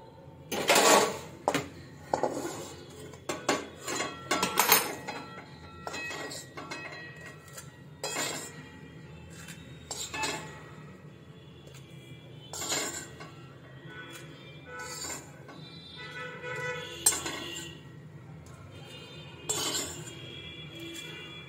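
Cooled roasted spices are emptied from a pan into a small container with a run of close clinks, scrapes and rattles, busy at first and sparser later, and no speech.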